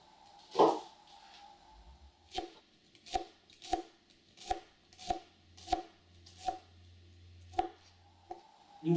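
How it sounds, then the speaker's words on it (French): Shallots chopped with a knife on a board: about ten crisp, evenly spaced knocks in a steady rhythm, close and clear against a quiet background. "Une fois les échalotes épluchées, on va les couper clairement."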